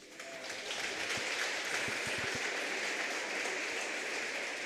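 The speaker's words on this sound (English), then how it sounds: "As they get her up and walking, you hear the crowd applause." Crowd applause in a gym during the third quarter of a girls' high school basketball game, a steady broad wash of clapping that builds quickly and holds loud, with a few scattered claps and faint voices underneath.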